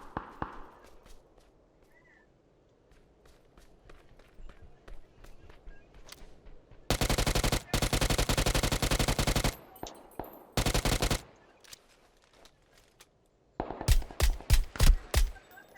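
Automatic gunfire in PlayerUnknown's Battlegrounds comes in a long sustained burst, a short second burst and a final string of punchy shots, with quieter footsteps and small movement sounds in the gaps.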